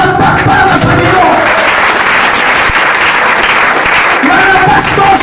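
A church congregation bursts into loud, sustained applause mixed with cheering and shouts, a dense wash of clapping that continues steadily throughout.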